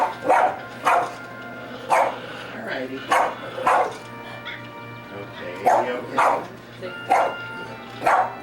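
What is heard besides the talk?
dog barking at animals on the TV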